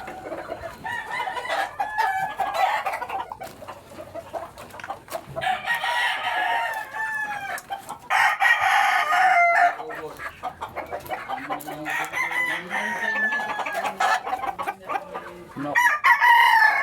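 Chickens cluck and roosters crow on a farm, with repeated overlapping calls, long crows and short clucks, close and fairly loud throughout.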